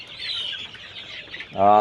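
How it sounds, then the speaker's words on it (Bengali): Fayoumi chickens on a farm peck at black soldier fly larvae, with soft, continuous clucking and chatter close by and a louder, sharper cluck at the end. "ব্ল্যাক সোলজার লার্বা খাওয়াচ্ছি মুরগিকে দেখেন কিভাবে খাচ্ছে এরা"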